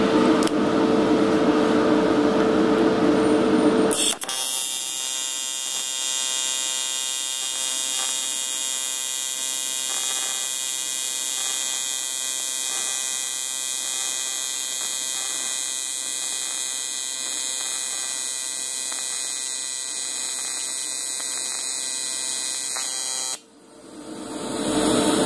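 A Longevity MicroTIG 200 TIG welder runs in AC mode on aluminum with a steady, loud, high buzzing hum that holds for about nineteen seconds, then cuts off abruptly.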